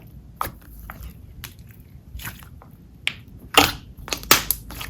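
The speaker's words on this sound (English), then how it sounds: "It becomes nice and foamy as well to make satisfying ASMR like sizzles and crackles." Foamy, inflated slime is squished up close, giving sharp crackles and small popping sizzles in scattered bursts that grow louder toward the end, with no talking.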